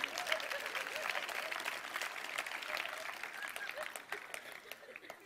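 A youth church audience claps during a talk on the Apocalypse, a fairly soft, scattered patter of hands with a few sharper claps, fading toward the end.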